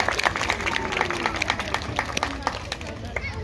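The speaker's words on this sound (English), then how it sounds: "We'll give him a cheer, that was a lovely impression." An audience at a sea lion show at a safari park claps and cheers, with a steady patter of many hands and crowd noise, and voices mixed in.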